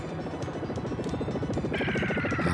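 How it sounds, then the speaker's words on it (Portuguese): An airplane approaches in the SNES game Super Contra 3, heard as a dense, throbbing engine drone that pulses steadily and grows slightly louder, with a bright higher tone joining in near the end. "Agora vem um avião"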